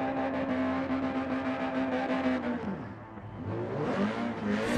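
A race car drifts through a turn at a World Race Series event at Daytona, its engine revving hard and holding a steady high whine that dips and climbs again, loud and continuous throughout.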